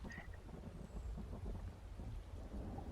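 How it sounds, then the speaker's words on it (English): Steady rain falls with a low rolling thunder rumble throughout, a simulated storm in an Unreal Engine weather system with rain density building, no voices, constant and fairly even in level. "we don't get a lot of rain drops right away, but it gradually increases"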